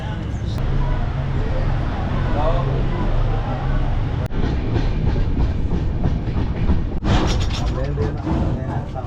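A passenger train runs on the line toward Kankavli, heard as a loud steady rumble with rhythmic clickety-clack of wheels over rail joints and occasional sharp clanks, voices faintly mixed in.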